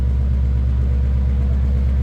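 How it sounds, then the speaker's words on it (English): A 2023 Ford Mustang Shelby Super Snake Convertible Speedster's deep, throaty exhaust rumbles steadily and loudly up close, a low pulsing idle with no voices. "Nice little deep throaty exhaust note."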